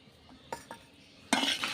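Fried egg, beef and potatoes being stirred together in a pan: a few soft scraping knocks of a utensil, then a louder, denser burst of clattering and scraping near the end, close and quiet overall.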